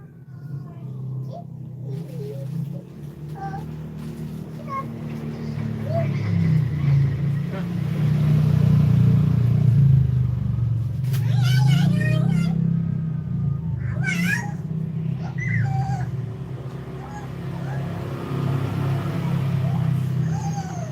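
A cat meows repeatedly and fairly close over a steady low rumble of background noise, with people talking nearby at times.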